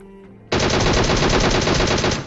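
Loud, continuous automatic gunfire from a battle royale video game bursts in after a brief quiet moment and keeps rattling densely and steadily to the end, with no talking.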